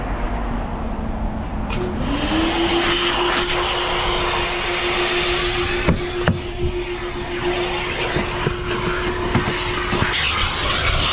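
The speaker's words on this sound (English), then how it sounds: "is definitely far too strong than home vacuum cleaner" A powerful car vacuum cleaner whines steadily at close range inside a car in below-freezing weather, its motor pitch rising as it spins up, with occasional sharp clicks and bumps.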